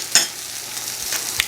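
Blueberry compote thickened with cornstarch simmers in a pan over low heat, giving a soft sizzle with a few sharp stirring scrapes and clicks.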